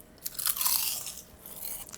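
Crispy homemade kale chips crunched up close, a burst of sharp crackling bites that rises, fades briefly and returns toward the end, with no talking.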